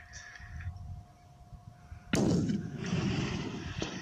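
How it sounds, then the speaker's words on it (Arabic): A single loud rifle shot cracks out during a mountain ram hunt on a slope, followed by a long rolling echo across the terrain after a quiet wait. "هنا بيستهدف القلب، لاحظ رصاصة واحدة مهارة."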